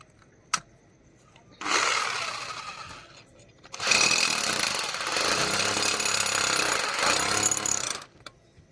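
A power drill tightens a nut on a wall-mount fastener for an LED TV in two loud whirring bursts, a shorter one followed by a longer sustained run, with quiet pauses and a sharp click between them.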